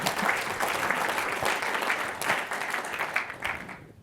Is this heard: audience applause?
yes